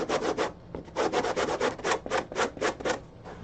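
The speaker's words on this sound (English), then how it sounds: "This is a belt sander piece of sandpaper" Hand sanding with a torn-off strip of belt-sander sandpaper on wood makes quick, rhythmic rasping strokes, about a dozen scratchy back-and-forth rubs in close succession, near and fairly loud, with no talking.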